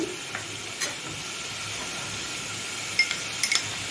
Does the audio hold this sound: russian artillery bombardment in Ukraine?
no